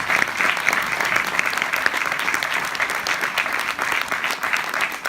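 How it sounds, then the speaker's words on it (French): Dense, continuous applause fills a small cinema hall at the inauguration of a village cinema in Gedinne, a steady crowd clapping without pause, close and fairly loud. "Vous méritez pleinement les applaudissements de cette salle"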